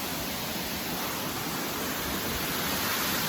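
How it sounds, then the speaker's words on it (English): A waterfall on a hiking trail roars as a steady, dense broadband rush of falling water, loud and continuous without a break. "this is the waterfall I've hiked more than any"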